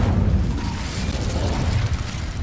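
An Incendio fire spell goes off in Hogwarts Legacy, a dense rumbling whoosh of flame with a low booming body that holds steady for a couple of seconds, with no voices.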